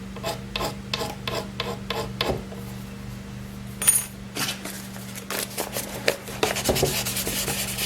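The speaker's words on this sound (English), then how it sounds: "all we have to do is sand that off" Sandpaper is rubbed by hand over a repair on an old oak chair in short, separate rasping strokes, then quicker back-and-forth scrubbing, close and fairly quiet, over a low steady hum.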